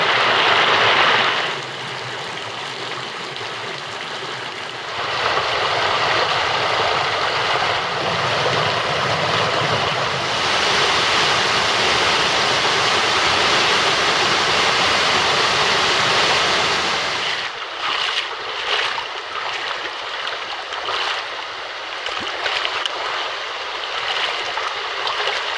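A waterfall on a small tributary in the Bendola canyon pours as a loud, steady broadband rush, dropping slightly in level partway through as the position shifts, with no voices.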